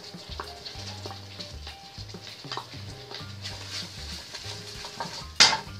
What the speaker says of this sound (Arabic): غادي نضيف دابا هذا البصل مع الثوم،